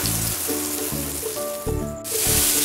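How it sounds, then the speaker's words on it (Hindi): Tomatoes hit a kadai of browned onions for kadai paneer, raising a loud, hissing sizzle that swells and surges as they go in, with a few spoon scrapes, no talk. "तो यहाँ पर मेरे प्याज भी थोड़े से पिंकिश ब्राउन हो चुके हैं यहाँ पे प्याज को भी हमें डार्क ब्राउन नहीं करने हैं अब मैं यहाँ पर अपने टमाटर ऐड कर दूँगी"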